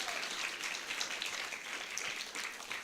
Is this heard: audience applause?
yes